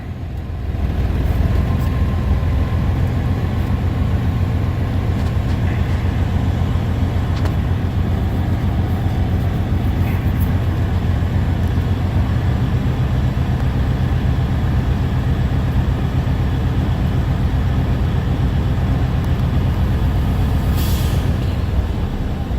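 A truck engine idles up to about 1,000 RPM during an air brake test, a loud, steady low rumble running unbroken for over twenty seconds with a faint hiss of air near the end.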